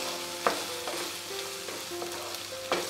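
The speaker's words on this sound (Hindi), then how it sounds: "इस गाजर को भी आलू के साथ ही पका लेती हूँ" Carrots and potatoes cooking together in a pan with steady frying sizzle, with occasional clinks of a spatula stirring them, close and continuous with no talk.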